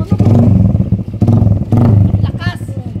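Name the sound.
motorcycle engine revving during ride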